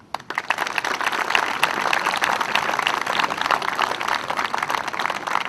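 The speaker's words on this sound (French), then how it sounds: "je vous demanderai à titre de crédit déjà des applaudissements" Audience at a tournament awards ceremony bursts into dense, steady applause that starts abruptly and continues evenly at full volume throughout, with no voices over it.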